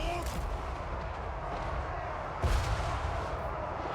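Massed gunfire pours into Throg, a missile-resistant troll, during a battle in Total War: Warhammer 3, forming a dense, continuous roar of shots with a heavier impact burst partway through.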